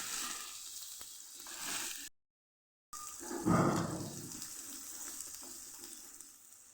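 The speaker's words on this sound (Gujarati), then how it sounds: "અને ડુંગળી પણ ઉમેરી દઈશું સરસ સાતડી લેશું આપણે" Onions sautéing in a pan, a steady hissing sizzle that swells loudly after a brief gap, then settles back to a continuous fry.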